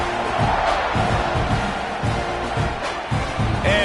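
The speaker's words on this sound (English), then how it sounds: "this crowd is buzzing after that last score" A stadium crowd murmurs and buzzes at a college football game in an NCAA video game, a loud, continuous roar with faint rhythmic swells and scattered whoops.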